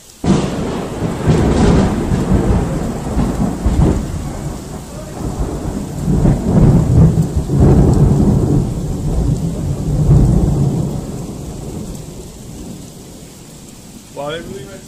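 Heavy thunderstorm with loud rolling thunder booming over steady rain, the rumbles swelling and fading in waves across the whole stretch, with a brief faint voice near the end.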